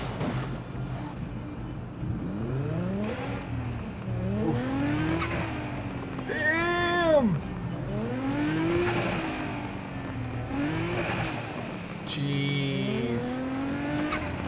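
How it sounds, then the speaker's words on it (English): A muscle car's engine in Need for Speed Most Wanted revs in repeated rising and falling sweeps, with turbo whine and a sharp blow-off hiss near the middle, loud and continuous throughout. "That little turbo come on, right?"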